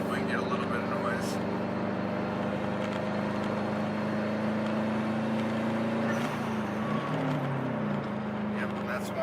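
A 2002 Subaru WRX engine drones steadily from inside the car as it drives, its tone climbing slightly as it accelerates, with a voice speaking over the hum.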